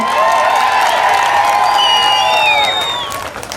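Supporters cheer, whoop and applaud together at a Malegaon political gathering held for a prospective assembly candidate, a loud, dense crowd roar with shrill whistles rising over it, fading slightly at the end.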